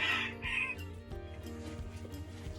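Chickens clucking and squawking close by, a busy flock with overlapping calls and scratching movement, no talking.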